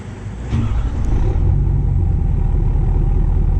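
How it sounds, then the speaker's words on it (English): Ford 6.7 Powerstroke diesel truck exhaust droning steadily as it drives, a loud, continuous low rumble that swells slightly after the first second and then holds even. "it'll still pick up the exhaust noise"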